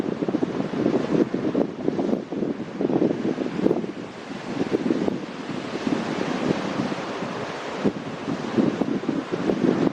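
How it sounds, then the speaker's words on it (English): Wind gusting outdoors on the dunes at the SpaceX Starbase launch site in Texas, a continuous loud rushing buffet with surging gusts, no talking. "we got a little wind out here"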